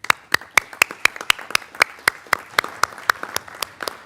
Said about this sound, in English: I'd like you to stand if you're here this evening so we can give you a round of applause.